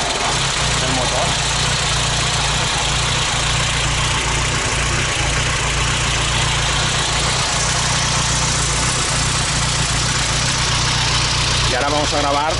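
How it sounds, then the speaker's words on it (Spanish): A BMW M3 engine idling just after starting, a steady, loud mechanical drone with low rumble and belt whine that holds even throughout. "Nos van a arrancar el coche, este BMW."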